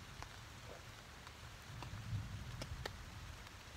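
Light rain pattering steadily in a forest beside a lake on a canoe trip, faint and soft, with a low distant rumble of thunder swelling briefly in the middle.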